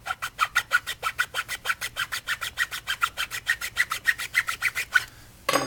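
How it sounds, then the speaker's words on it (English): Rapid, steady rasping strokes of a chainsaw file scraping back and forth on bamboo, about five per second, close and loud, then a brief pause. "And then I like to use a chainsaw file."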